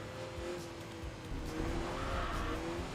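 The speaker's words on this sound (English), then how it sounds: "it sounds wonderful as well with that upgraded V6" An upgraded V6 car engine growls in the Enthusia Professional Racing video game. A steady, fairly quiet engine hum runs throughout, with tyre squeal and skidding noise mixed in.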